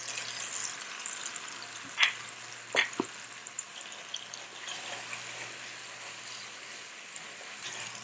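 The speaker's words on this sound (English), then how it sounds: "I'll add the green seasoning and the garlic." Green seasoning and garlic hit hot oil for a seafood curry, producing a quiet, steady sizzle close by, with a few brief clinks and taps of a utensil against the pot early on.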